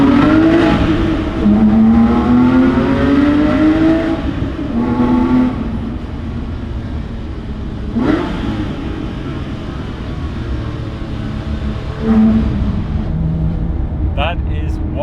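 A stock-exhaust Porsche 997.2 GT3 RS revs loudly inside a tunnel, several rising and falling engine sweeps echoing off the walls, close and dominant with a reverberant tail.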